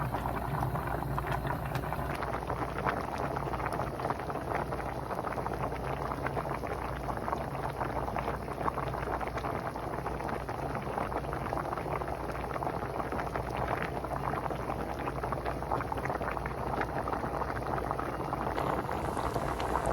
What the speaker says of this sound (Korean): 고등어 조림이 끓는 소리 나면 뚜껑을 좀 열고 졸여주세요